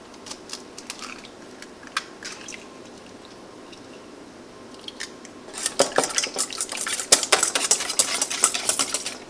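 Two eggs go into a bowl of cheeses for lasagna, then a busy stretch of wet stirring and clinking against the bowl builds up close and fairly loud, with no voices.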